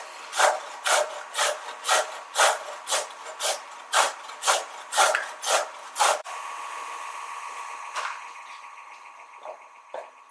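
A carrot rasps against a grater in about a dozen loud, even strokes, steady back-and-forth scraping that stops abruptly partway through, leaving a quieter hum with scattered light clicks.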